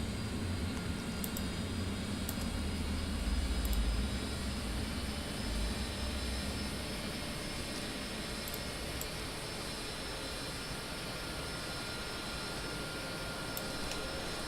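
Jet engine number two of an Embraer E145 regional jet spooling up in the X-Plane 11 flight simulator, a steady broadband roar with a rising low rumble that holds evenly throughout, no talking.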